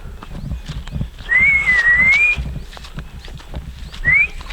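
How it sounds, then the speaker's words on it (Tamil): A person whistles to call a horse, with a rising then wavering whistle followed later by a short upward whistle, over outdoor rustling and soft hoof-like thuds nearby. "அவன் எங்கே இருந்தாலும் என்னோடய விசில் சவுண்டு கேட்டானா வந்துடுவான்"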